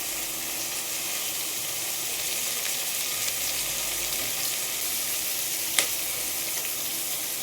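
Steady frying sizzle from tomato rice ingredients cooking in a pressure cooker, a continuous even hiss at close range with one brief sharp tick near the end and no voices.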